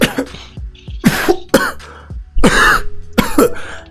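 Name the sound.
coughing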